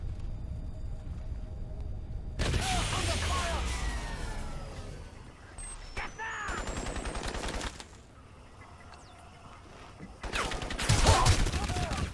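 Bursts of automatic gunfire in Crysis Remastered, loud close volleys in two main stretches with a quieter gap between, mixed with game sound effects.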